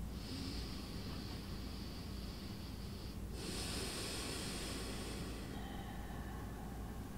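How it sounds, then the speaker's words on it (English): Slow, deep belly breaths during a vinyasa yoga session, heard as a long steady airy inhale and exhale close to the mic, joined by a brief low hiss and rush later on, with no talk. "I can feel that tangible breath in and breath out"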